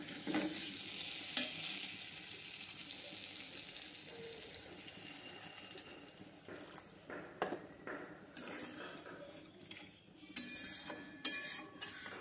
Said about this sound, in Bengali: এখন আমি ঝোলের জন্য একটু জল দিয়ে দেবো পরিমাণ মতো।